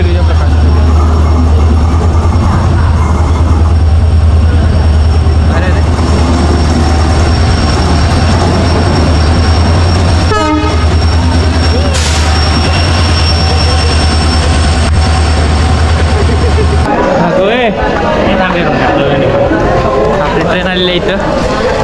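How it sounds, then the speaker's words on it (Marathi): A train pulls into a station near Malvan with a loud, steady low rumble and rolling clatter that fades toward the end, while people talk over it. "फायनली ट्रेन आलेली आहे"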